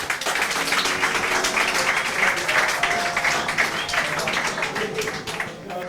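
A crowd applauds steadily at a futsal team presentation, the clapping continuous and dense with voices mixed in.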